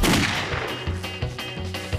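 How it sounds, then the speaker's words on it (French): Loud cartoon gunfire from a Lucky Luke Wild West scene, a rapid volley of sharp shots and bangs crowding the whole two seconds with hardly a pause. "Mais tirez donc, bande de momies!"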